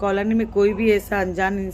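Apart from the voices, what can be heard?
None of the usual background noises is heard.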